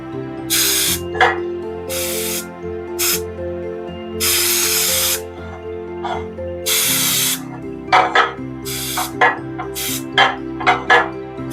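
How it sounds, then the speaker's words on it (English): Cooking oil spray hisses onto a flan pan for a chocoflan in close, loud bursts: several long sprays of one to two seconds, then a run of short quick spritzes, over a steady low background hum. "So we're going to be spraying all the pan, okay?"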